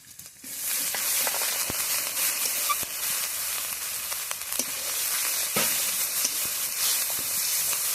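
Ginger, garlic, chilli and cumin paste sizzles and fries steadily in a hot pan, a continuous close hiss with occasional crackles and stirring scrapes, no voices.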